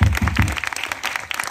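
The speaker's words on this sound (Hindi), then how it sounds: "जोरदार तालियां।" Burst of audience applause at an Indian Constitution Day event honouring a Shaurya Chakra recipient, loud and close, a brief surge of clapping that thins out within about a second and a half.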